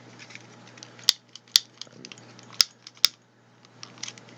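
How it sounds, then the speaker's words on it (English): A barbecue pit lighter clicks four times with sharp, close snaps, spaced irregularly, over a faint hum and small handling noises, no speech. "That is the sound of a barbecue pit lighter."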